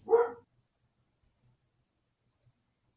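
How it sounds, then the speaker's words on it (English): A dog gives one short, close bark at the very start, then near silence follows with only faint thumps. "My dogs are freaking out."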